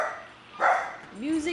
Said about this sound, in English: So you got Screaming Dog and a little Wiggly Butt.